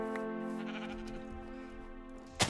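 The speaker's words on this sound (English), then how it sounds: "There's so many sheep." Sheep bleat in the video game Minecraft: a steady, drawn-out bleat runs through most of the clip, close and clear, with a short sharp click near the end.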